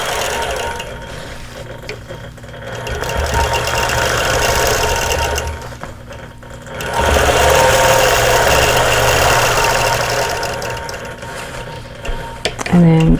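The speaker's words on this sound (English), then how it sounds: "I'm just going to stitch in the ditch to get to the next point" Sewing machine stitching in the ditch along a quilted pillow cover, a steady mechanical hum and rapid stitching rhythm running in two long bursts with a short pause between, fairly close and loud.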